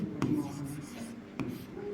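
Chalk or marker strokes on a board during a maths lesson, a few short scratchy bursts at close range, with a teacher's voice speaking over the writing.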